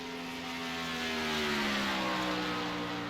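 Phoenix Racing number 25 race car lapping a track during a Chicagoland 100 race, a steady distant engine drone that swells slightly and shifts pitch downward as it passes.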